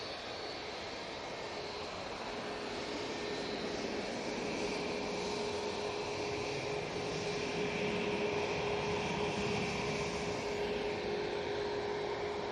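A Ryanair airliner departing Manchester Airport, heard as a steady, distant jet engine roar with a sustained whine, moderately faint and continuous throughout.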